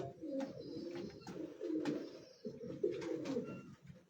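Soft, low pigeon cooing from rooftop pigeons repeats in overlapping phrases close by, with a few light knocks and rustles in the background.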